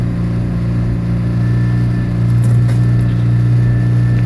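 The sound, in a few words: 1989 Chevy Tracker 8-valve 1.6 liter engine cold start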